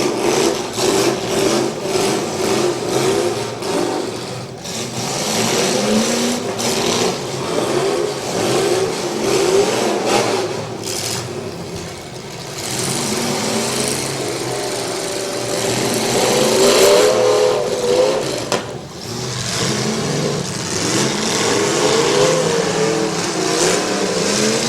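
Demolition derby cars at a county fair derby rev their engines loudly and continuously, a dense, roaring mix of several motors rising and falling over a long stretch with no pauses.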